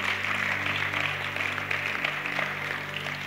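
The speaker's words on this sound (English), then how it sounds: "Let's clap for Jesus Christ." A church congregation claps steadily in a dense, continuous wash of applause, with a low sustained hum or music underneath throughout.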